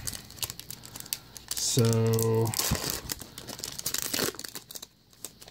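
A Pokémon Primal Clash booster pack being crinkled and torn open close up, a burst of foil crinkling and ripping with a brief electronic tone midway, a voice speaking briefly around it.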